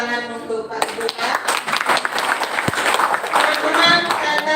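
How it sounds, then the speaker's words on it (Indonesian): An audience at a talk on gender in Nias culture applauds Pak Duta, a loud, uneven patter of hand claps mixed with crowd noise and voices, starting just after a moment of speech. "kita berikan tepuk tangan untuk Pak Duta"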